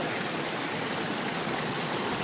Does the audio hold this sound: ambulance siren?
no